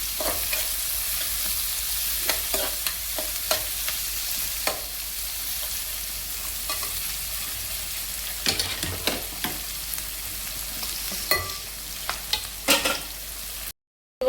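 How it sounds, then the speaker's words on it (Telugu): Onions, green chillies, garlic and cumin fry over low heat with a steady close sizzle, broken by scattered taps and scrapes of a spoon against the pan and a brief drop to silence at the end. "చక్కగా ఉల్లిపాయలు పచ్చిమిరకాయలు ఎల్లిపాయ జీలకర్ర మొత్తం చక్కగా చిన్న మండలం వేగనిస్తున్నాము"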